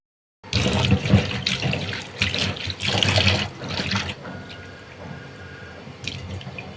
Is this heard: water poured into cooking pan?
yes